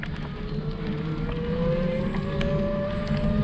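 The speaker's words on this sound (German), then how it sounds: "Ja, man hört den Motor schon gut arbeiten." A motor working hard on a steep climb while towing a caravan, a loud continuous drone with a rising whine that climbs steadily in pitch, heard close up with wind noise.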